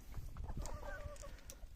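Hens clucking softly nearby in an enclosed space, a few scattered calls over a low, steady background hum.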